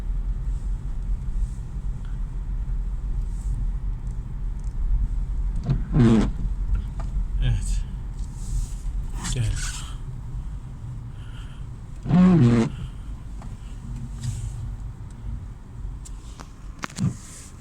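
A car creeping slowly across a snowy school yard in Karayazı, Erzurum, with a low steady engine rumble throughout and brief voices and movement sounds popping up now and then.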